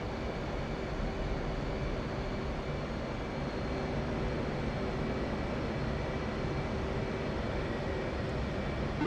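An aircraft engine is throttled back in flight in the flight sim DCS World, heard as a steady, even engine drone with a faint tonal whine that holds constant throughout, neither rising nor falling.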